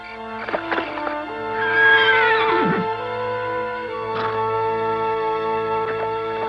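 A horse whinnies loudly up close, a shrill rising-and-falling neigh over a sustained musical background in a cartoon film, followed by a shorter snort-like call, with no talking.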